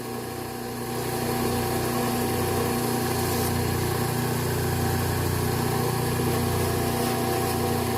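A buffer wheel runs to clean gunk off a pair of scissors in a sharpening shop with a 1x30 belt sander, its motor spinning up in the first second into a loud, steady hum.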